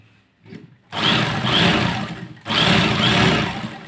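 A sewing machine stitches the side seam of a Kallidar Punjabi in two loud close bursts of rapid whirring, about 1.5 seconds each, split by a brief pause, after a soft fabric rustle at the start.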